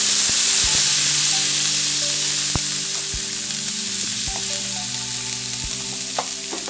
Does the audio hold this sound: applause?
no